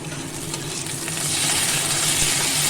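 Ginger garlic paste hits onions already browning in a hot pan, a loud, dense sizzle and spatter that swells and stays steady, with no talking.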